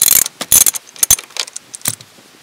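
Metallic ratcheting and clinking while bolts are worked loose from a Mazda Miata's car seat, short irregular bursts of close mechanical clicks and rattles with brief pauses between.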